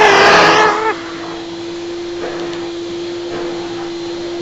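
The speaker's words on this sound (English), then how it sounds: "So here's little boy hoovering up." A Hoover vacuum cleaner runs with a steady, loud motor whine and a constant tonal hum, and a short burst of louder intake noise is heard at the start before it settles into an even drone.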